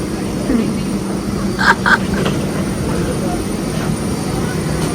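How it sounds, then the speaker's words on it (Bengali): A steady, loud airplane engine roar with deep rumble while boarding a London-to-Dhaka flight, running continuously throughout, with a brief higher whine partway through. "আমরা এখন প্লেনে উঠে যাচ্ছি"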